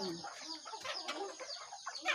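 A crossbreed native chicken on a farm gives a run of short, close clucks and squawks, busy and irregular throughout, with no talking over it.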